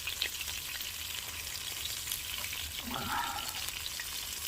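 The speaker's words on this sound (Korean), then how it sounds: "팔팔 끓는 기름이 어디로 튈지 몰라요." Pork belly sizzles and fries in boiling oil cooked outdoors on top of a vehicle, a steady close crackling hiss with occasional stirring, no voices.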